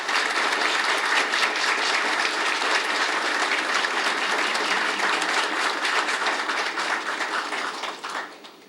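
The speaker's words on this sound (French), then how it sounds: "que je vous demande d'applaudir" Sustained applause from a ceremony audience welcoming a newly installed minister at a government swearing-in in Haiti, steady and dense for most of the stretch before tapering off near the end.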